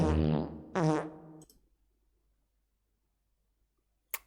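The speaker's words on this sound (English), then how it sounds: "This doesn't sound like a good fart," A synthetic fart sound effect plays twice, two loud buzzy blasts in quick succession that tail off into silence, followed by a brief faint click.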